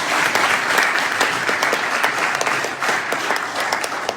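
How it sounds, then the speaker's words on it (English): An audience at a panel event gives a sustained round of applause, dense and even clapping at moderate loudness with no talk over it. "Let's give our brother a round of applause."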